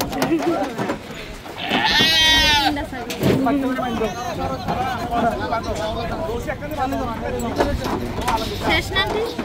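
A goat being carried in someone's arms to a vehicle gives one loud, close bleat early on, while several people talk throughout.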